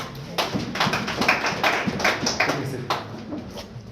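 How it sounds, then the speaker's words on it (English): Scattered hand claps from a small audience at a university cabinet swearing-in ceremony, irregular and fairly close, with faint murmuring underneath. "Would you clap for him?"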